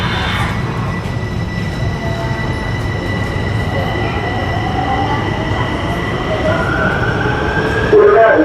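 An underground metro train in Bucharest, Romania runs steadily with a loud, continuous rumble and rattle, high whining tones riding on top and a brief wheel squeal near the end.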